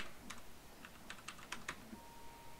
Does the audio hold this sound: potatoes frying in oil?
no